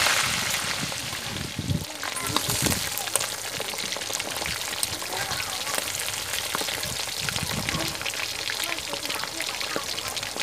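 Fermented fish (pla som) fries in a pan, a steady crackling sizzle with scattered spitting pops over about ten seconds.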